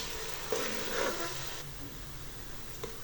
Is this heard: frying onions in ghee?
yes